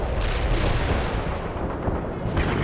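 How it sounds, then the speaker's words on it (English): An artillery barrage in the video game World in Conflict, a dense, continuous roar of heavy explosions and booming impacts overlapping without pause, loud and rumbling throughout. "The barrage is on the way."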